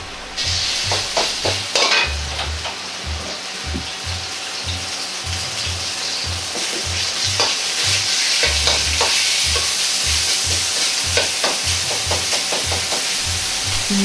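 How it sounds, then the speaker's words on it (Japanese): Sizzling and crackling of pork mince frying in oil in a pot, spread with the back of a ladle, with repeated scraping and stirring clicks throughout; steady, close and fairly loud. "ひき肉をお玉の底で広げるようにして炒めていきます。"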